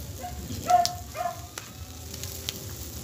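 Pork barbecue sizzles faintly on a grill, a soft crackling hiss with a few small pops and taps, low and steady throughout.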